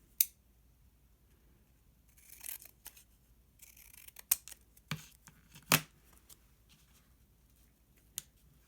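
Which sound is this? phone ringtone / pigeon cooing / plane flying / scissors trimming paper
scissors trimming paper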